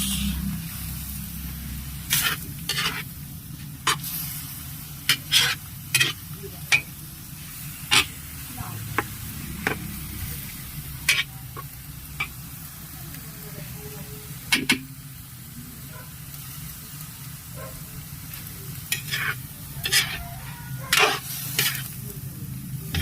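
Food being stirred and sautéed in a pan at a festival kitchen, a steady sizzle beneath repeated sharp scraping and clanking strokes of the utensil, with people talking nearby.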